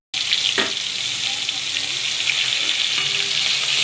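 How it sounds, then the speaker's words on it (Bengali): Chopped onions dropped into hot oil, setting off a loud, steady sizzle of frying right at hand that keeps going without a break. "আমি তেল গরম করে দিলাম, এর মধ্যে পেঁয়াজ কুচি দিয়ে দিচ্ছি"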